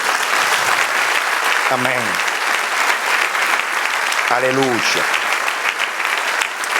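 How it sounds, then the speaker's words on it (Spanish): Congregation applauds steadily through a church service, a dense continuous wash of clapping, while a preacher calls out short exclamations over it. "Dios merece otro aplauso."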